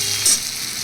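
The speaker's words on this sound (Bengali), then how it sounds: "এবার এর মধ্যে দিয়ে দিচ্ছি আমি টমেটো" Chopped tomato goes into browned onions frying in oil for a katla kalia fish curry, a brief, loud, close sizzle with a slight surge as it lands.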